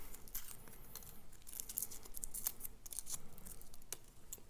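Crinkling and rustling of foil wrapping being peeled off a Kinder Surprise chocolate egg, a steady close-up crackle with small sharp ticks throughout and no talking.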